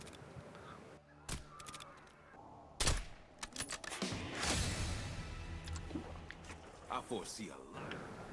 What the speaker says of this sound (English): You want to shoot all 5 without missing